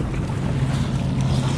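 Gusty wind buffets the microphone on a sailboat during a downwind jibe, with a steady low roar of wind and water rushing continuously under the hull, loud and close throughout.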